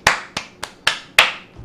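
A person claps hands five times in quick, slightly uneven succession, close and sharp, imitating an audience's approving clap with no voices.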